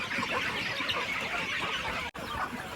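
A flock of Kadaknath, RIR and local chickens on a poultry farm cluck continuously and fairly loudly, a dense overlapping chorus with one brief dropout near the end.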